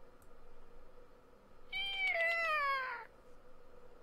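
A cat-like meow from the puzzle game Hidden Folks, set in a desert scene, comes as one clear, drawn-out call over quiet background ambience.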